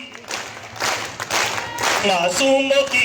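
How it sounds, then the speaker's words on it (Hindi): An audience at a political speech in Surat, Gujarat, applauds loudly, a dense wash of clapping that swells toward the end, with voices and a shout mixed in. "दोनों हाथ ऊपर ही रखिए और जोरदार ताली बजाते"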